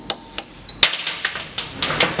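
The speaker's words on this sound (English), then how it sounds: "just a hammer and chisel and work your way around" A hammer drives a chisel around the rear hub dust cover of a Hyundai Excel, giving sharp metallic strikes, about a dozen close taps at an uneven quickening rhythm.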